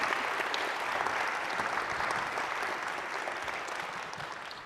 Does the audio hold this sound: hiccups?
no